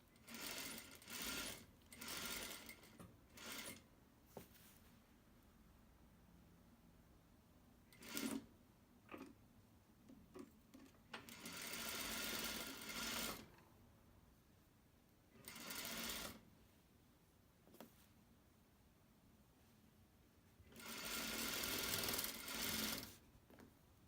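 A domestic sewing machine stitches fabric with a 3.5 stitch length and a back tack, running in several close whirring bursts of varying length separated by quiet pauses, with no talking.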